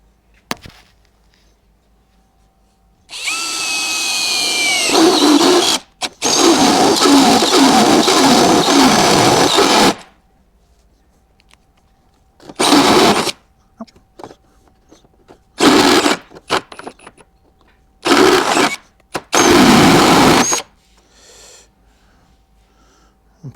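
A power drill cuts a 28mm hole in a classic car for fitting a block heater, loud close-up bursts of whining drilling separated by pauses, the first runs long and the later ones short and choppy.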